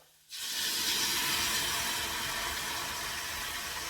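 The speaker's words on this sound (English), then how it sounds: "deglazing the bottom of the pan, scraping up the brown bits of the bottom pan" White wine hitting a hot pan to deglaze browned bits, bursting into a loud, sustained sizzling hiss after a brief quiet moment, steady and close throughout.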